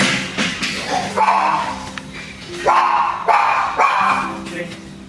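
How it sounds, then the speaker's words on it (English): A dog barking indoors in a spare upstairs room, several loud close barks and yips repeated in an uneven rhythm with whiny tones between them. "And one barking dog"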